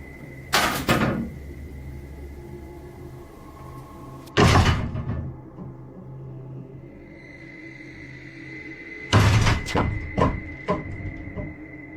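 Wardrobe doors bang and crash in three loud, separate bursts, each a heavy wooden thud with a rattling tail, spaced a few seconds apart over a quiet room hum.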